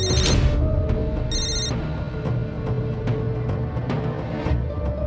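A telephone rings in repeated electronic bursts, fairly loud and close, against a steady background hum.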